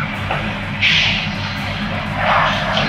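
Airliner at an airport seen from the terminal, its engine noise a steady distant roar with two swelling whooshes, heard alone without talk.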